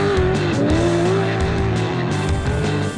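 A BMW rally car pulls away at the start of the Klerksdorp 150 race, its engine loud and close with a rising whine and tyre squeal throughout.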